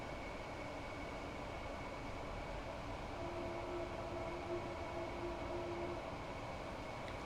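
A passenger train in Train Sim World runs through snowy, freezing London on the Gatwick to London Victoria commuter route, giving a steady, fairly quiet rumble with a sustained tonal whine rising partway through, no talking.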